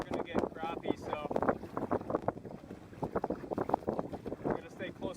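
Gusting wind buffets a small boat near the shore of an open lake, with choppy waves slapping the hull in an irregular rhythm; close, steady wind noise on the microphone throughout.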